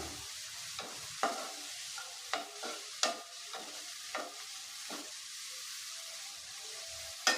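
Vegetables and deseeded tomato sauté in a pan with a soft sizzle as a spatula scrapes and stirs in a series of distinct, irregular strokes, close by and without talk.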